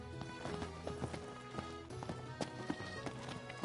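Horse hooves clip-clop at a quick, uneven pace in the Final Fantasy XV video game, soft irregular knocks over a faint background.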